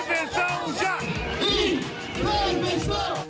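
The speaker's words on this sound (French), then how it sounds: "Des cortèges monstres envahissent les villes du pays" Large protest crowds marching through Brazilian city streets, a loud surging mass of shouting and chanting voices close by, continuous throughout with rising swells.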